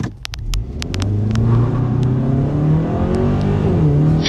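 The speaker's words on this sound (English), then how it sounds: "It's definitely got some excellent acceleration here." A 2026 Hyundai Sonata N-Line accelerates hard from inside the cabin, its engine note rising steadily in a loud, continuous rumble with a few faint clicks near the start and no one talking.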